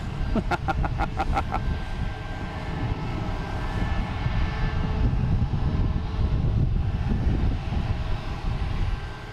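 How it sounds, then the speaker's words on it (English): A JetBlue Airbus A320 jet arriving from Orlando roars steadily close by, a broad continuous engine rumble that holds for the whole stretch, opening with a quick series of sharp clicks. "We have a JetBlue coming in from Orlando. An A320."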